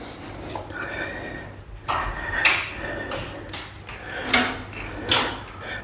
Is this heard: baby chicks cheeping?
no